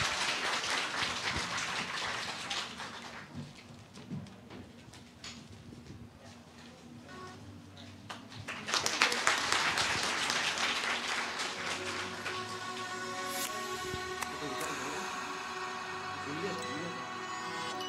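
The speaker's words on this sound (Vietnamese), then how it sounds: "Một tràng pháo tay cho hai vị diễn giả của chúng ta được không ạ?" An audience claps for two speakers at a student startup talk at FPT Polytechnic, a steady patter of many hands that swells louder partway through and continues under a voice.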